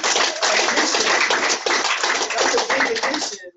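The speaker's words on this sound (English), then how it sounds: "You guys can clap for that." Audience applause at a business opportunity meeting. A dense, continuous wash of many hands clapping fills the room and drops away abruptly at the end.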